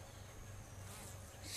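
Honeybees buzz steadily around a hive with backyard decking nearby, a low continuous drone that stays fairly faint and even throughout, swelling slightly toward the end.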